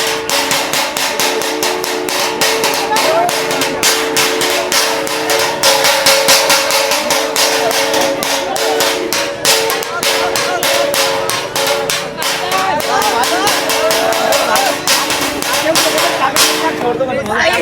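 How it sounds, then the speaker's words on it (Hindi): Street protesters bang metal thalis and clap at Jantar Mantar, a loud, dense and continuous clatter of rapid metallic strikes. A crowd roars underneath throughout. "एक बार प्रधानमंत्री ने लोगों से ताली थाली बजवाई थी, अब देखिए वही हो रहा है सड़क में"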